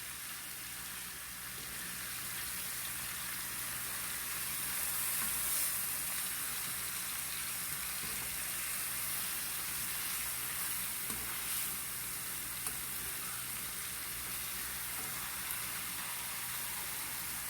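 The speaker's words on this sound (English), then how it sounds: "So I'm just gonna turn them over because we don't want no burnt pork chops." Pork chops frying in a pan, a dense, steady sizzle like light rain that runs loud and unbroken throughout, with no talking.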